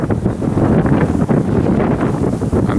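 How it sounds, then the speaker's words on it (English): Strong wind at Knowlton church and earthworks buffets the microphone with a loud, continuous low roar and gusting rumble throughout, with no voices. "You can hear it's very windy. It's always windy up here."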